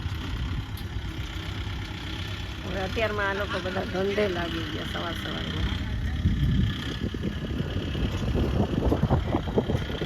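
A low tractor engine idles steadily in the background while someone talks over it, the rumble growing louder and rougher toward the end.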